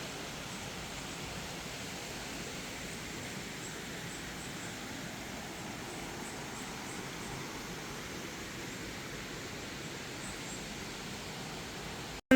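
Steady broadband roar of a waterfall hidden around a bend in a narrow wooded valley, distant and constant with no breaks, on a trail at Sycamore Falls.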